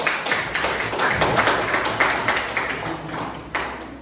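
A room full of people clapping steadily, a dense burst of applause lasting the whole few seconds at close range.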